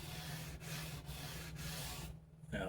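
Sandpaper worked by hand over a Squier bass guitar body, fine grits up to 800, giving a steady close rubbing hiss with a few brief pauses between strokes and a low hum underneath.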